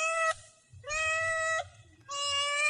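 A cat gives three drawn-out, loud meows close by, each separated by a short pause, with low rumbling background noise between them.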